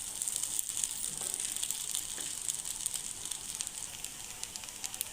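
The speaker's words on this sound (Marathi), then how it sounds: "खिचडी भांड्याला चिटकू नये म्हणून मध्ये मध्ये आपल्याला थोडंसं तेल देखील यामध्ये टाकून मंद असेवरच परतवत राहायचे" Sabudana and potato khichdi being stirred and fried in a pan on a low flame, with a soft, faint crackling sizzle and scattered light scrapes and ticks, no voices.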